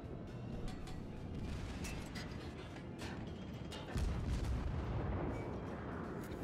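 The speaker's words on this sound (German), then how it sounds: "Warum schießen denn die ganzen schweren Kreuzer hier auf mich?" Heavy cruisers' guns firing in the naval video game World of Warships, heard as a continuous low rumbling barrage with a heavier boom partway through, fairly distant and muted.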